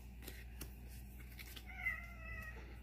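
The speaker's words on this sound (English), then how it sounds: "Don't mind the cat." A cat lets out a long, drawn-out meow with a wavering tone near the end, close to the microphone, preceded by a few small clicks and taps in a quiet room.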